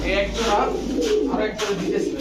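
Pigeons at a pigeon market coo close by, with soft, throaty, rolling calls repeating over a low background hum.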